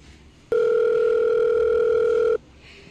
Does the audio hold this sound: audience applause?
no